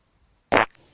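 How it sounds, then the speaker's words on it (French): A single short fart, a loud abrupt burst lasting a fraction of a second, followed by a faint tail and near silence. "Ah maman, t'as pété!"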